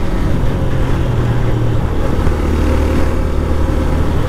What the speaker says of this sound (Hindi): बाइक अभी भी बहुत मज़े में जा रहा है।